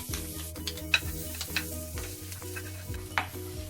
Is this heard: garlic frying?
yes